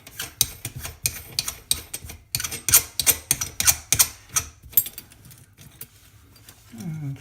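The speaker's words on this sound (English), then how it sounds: "we're going to loosen that nut" A wrench works loose the nut on a bathroom faucet drain pipe, giving a quick run of sharp metallic clicks and ratcheting ticks in uneven bursts, close and fairly loud, then fading to quiet.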